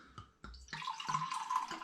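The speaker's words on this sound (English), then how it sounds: "Let's see what it looks like when I pour it into the glass." Homemade rhubarb and ginger cider at 7.35% ABV poured into a glass, starting with a couple of brief drips and splashes, then a steady close fizzing, bubbling stream for over a second with no talking.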